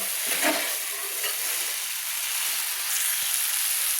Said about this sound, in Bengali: ততক্ষণ মশলাটাকে কষিয়ে নেব ভালো করে